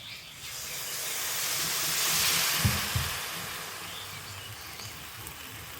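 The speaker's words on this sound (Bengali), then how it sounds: "তো গুড়টা এবার আমি দিয়ে দেবো।" Jaggery hits a hot pan of fried jujubes and sets off a broad, swelling hiss of sizzling that peaks midway, with a couple of dull knocks, then settles into a steadier fizz.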